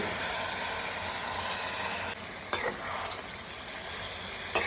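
Water poured into a sizzling curry masala that had been cooked down for about ten minutes: loud, steady frying hiss that drops suddenly and settles into a quieter bubbling sizzle, with a few spoon knocks.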